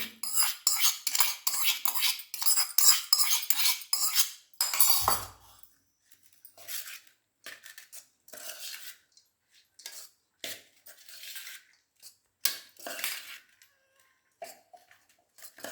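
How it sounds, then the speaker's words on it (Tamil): Rice puttu being stirred in a pan with grated coconut, cardamom and roasted cashews, giving a steady run of scraping, clinking utensil strokes that sounds busy at first, then turns sparser and lighter, with no voices. "அதை நல்லா கிண்டி விடணும்"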